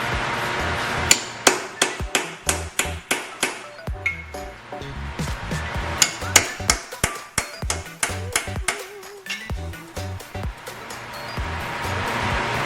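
Repeated hammer blows on metal during a K20A3 engine teardown, striking exhaust nuts to crack them loose; a steady run of sharp, ringing clanks at close range with uneven rhythm and no talk.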